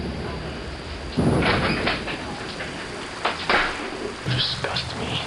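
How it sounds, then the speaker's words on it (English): Rain falling during a thunderstorm, a steady wash of drops with a few louder bursts and splashes mixed in, close by and continuous throughout. "Rain is the most insane weather there is."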